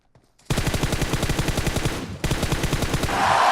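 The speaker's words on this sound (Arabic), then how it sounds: "والله في واحد قاعد يطلق علي يا جماعه" Loud, rapid automatic gunfire from the mobile game PUBG Mobile, fired in continuous rhythmic bursts with a brief break near the middle before the shooting resumes.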